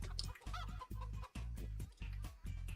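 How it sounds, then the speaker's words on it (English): Chicken in a Shrek video game clucking in a rapid series of about six bursts, close and clear with no talk over it. "What's this chicken doing?"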